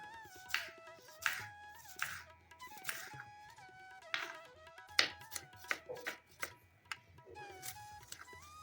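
Okra sliced thinly with a knife on a board: a steady run of crisp, close chopping taps in a quick irregular rhythm, with faint music behind.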